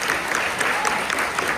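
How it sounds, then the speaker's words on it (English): Audience applause at a fair and interview day keynote, steady dense clapping filling the room throughout, with a voice faintly audible underneath. "let's just give Mr. JL a hand clap of praise this morning"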